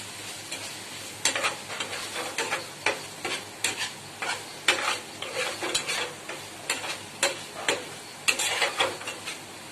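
Chopped onion, curry leaves and crushed fennel, cumin and pepper being stirred in a pan for mutton pepper fry, with a soft sizzle under frequent scraping spatula strokes in quick irregular bursts.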